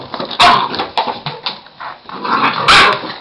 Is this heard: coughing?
no